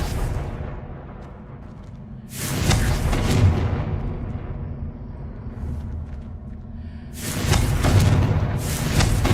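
Confringo spell explosions in the Hogwarts Legacy video game, two heavy booming blasts separated by a few seconds, each a loud, rumbling burst that trails off into a low roar.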